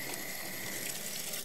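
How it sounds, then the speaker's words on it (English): Running water pours steadily over potatoes being rinsed in a kitchen, a continuous bright splashing hiss that fills the short moment with no voices. "now let's go ahead and rinse them."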